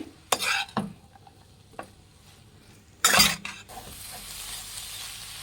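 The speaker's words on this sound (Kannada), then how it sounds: "ತೆಂಗಿನಕಾಯಿ ತುರಿ ಹಾಕಿದ್ರೂ ಚೆನ್ನಾಗಿ ಫ್ರೈ ಮಾಡಬೇಕು. ಚೆನ್ನಾಗಿ ಕೈ ಬಿಡದೇನೆ ಮಿಕ್ಸ್ ಮಾಡಬೇಕು" Grated coconut and greens stir-fried in a pan: a few loud scraping spatula strokes with clinks of metal on the pan, separated by quiet gaps, then a faint steady sizzle near the end.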